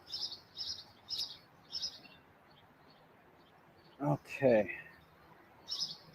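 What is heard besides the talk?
wild birds singing in a backyard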